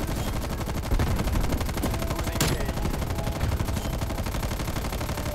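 Sustained rapid bursts of light machine gun fire in a shooter video game, dense rattling shots pouring out nearly continuously with a sharp louder crack partway through, close and loud.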